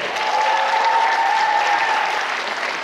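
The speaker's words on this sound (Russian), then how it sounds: "Еще раз ваши аплодисменты." Crowd at a student KVN comedy cup applauds, a broad sustained clapping that swells slightly and holds, with a faint tonal hum running underneath.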